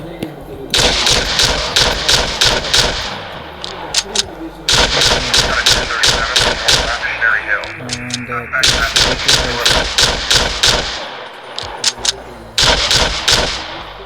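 Video game gunfire comes in rapid, loud automatic bursts separated by short pauses, with sharp individual shots punctuating each volley.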